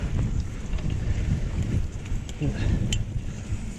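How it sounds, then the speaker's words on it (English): Strong wind buffets a mountain biker on the Mala Compra bike trail, roaring in loud gusts across the microphone with a brief sharp knock near the end. "Super windy."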